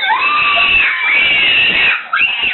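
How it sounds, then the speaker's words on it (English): A child screams in fright during a scare with a giant cockroach at home: loud, shrill, sustained wails that break briefly near the end and then resume. "He was screaming and stuff."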